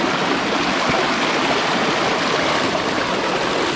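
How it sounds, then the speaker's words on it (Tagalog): A river stream running down from a waterfall rushes with a steady, broad, continuous roar that stays constant throughout, close and fairly loud, with no voices heard. "Ilog lang talaga siya. Ilog lang hanggang doon. Pero galing siya ng falls."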